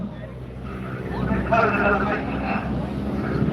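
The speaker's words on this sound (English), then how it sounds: "Now driving the aircraft down to 200 feet." A display aircraft descending to fly low at the Ayr air show, its engine drone swelling steadily under loud live commentary.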